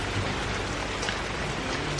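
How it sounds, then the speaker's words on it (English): Heavy rain pours down outdoors on a hot, muggy afternoon, a dense and steady hiss of drops drumming on surfaces that fills the whole moment without letting up, close and loud. "The rain kind of came out of nowhere, but it's really pouring down out here."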